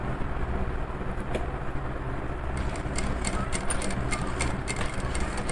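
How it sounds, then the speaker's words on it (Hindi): A sewing machine stitches a ladies bag, a continuous mechanical whirring hum with rapid ticking bursts in the latter half, close and steady, with no speech. "और मैं इस पे कपड़ा की सिलाई भी कर लेती रहती हूँ"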